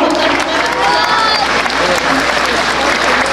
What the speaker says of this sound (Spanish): Que se escuchen los aplausos, por favor.